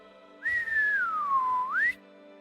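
One loud, sustained human whistle lasting about a second and a half, starting high, gliding down in pitch and sweeping sharply back up at the end, with no voices.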